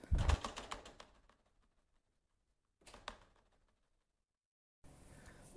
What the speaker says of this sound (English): Oh no, all the pigeons are flying out